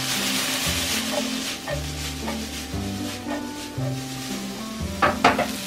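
Pieces of steak for beef broccoli sizzling in a hot pan while being stirred, a close, steady frying hiss with repeated scrapes and clinks of a utensil against the pan, louder bursts near the end.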